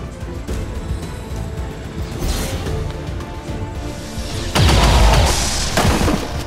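Rapid fire volley from XCOM 2 combat, with several dense booming blasts and swooshing impacts, loudest near the end, over continuous game background noise.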